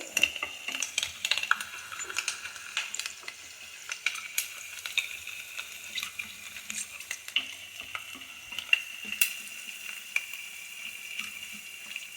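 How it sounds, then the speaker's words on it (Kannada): Garlic frying in a pan for a tomato curry, a faint, steady sizzle broken by light scraping stirs and small clinks, fairly close and quiet, with no voices. "ಎಲ್ಲ ಫ್ರೈ ಮಾಡಬೇಕು ಬೆಳ್ಳುಳ್ಳಿ ಚೆನ್ನಾಗಿ ಫ್ರೈ ಮಾಡಿದರೆ ಟೇಸ್ಟ್ ಚೆನ್ನಾಗಿ ಬರುತ್ತೆ"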